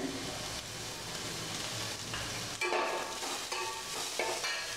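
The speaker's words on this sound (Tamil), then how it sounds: "இப்போ நல்லா வதங்கிடுச்சு வெங்காயம் வெள்ளை போடலாம்" Sliced onion and capsicum sautéing in a pan for chilli idli give a steady, fairly quiet sizzle. A spatula stirs and scrapes through it now and then, and no one speaks.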